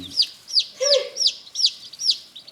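A hen close by giving a quick series of about six sharp, evenly spaced clucks over a couple of seconds, with one lower squawk mixed in the middle and no talking.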